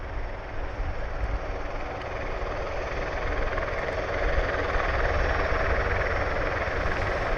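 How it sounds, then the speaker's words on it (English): Osprey tiltrotor aircraft taxi at Mildenhall airfield with a steady, dense roar of rotors and engines that swells slightly midway, sustained and fairly distant, with no talking. "we will go and have a look at the Ospreys, which are just starting to taxi now."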